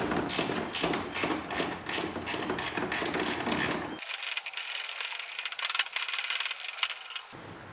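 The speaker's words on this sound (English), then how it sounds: "So we'll take a 3/8 wrench and remove these bolts." A 3/8 wrench works bolts off a golf cart's front shock cover bracket, a quick run of close metallic ratcheting clicks followed by a thinner, hissy scraping stretch.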